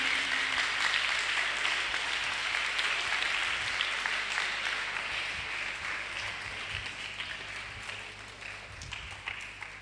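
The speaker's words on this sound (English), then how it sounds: "Please clap for her as she comes. Please keep clapping, keep clapping" Sustained audience clapping at a Day of the African Child roadshow, steady and dense throughout, slowly thinning toward the end with no talk over it.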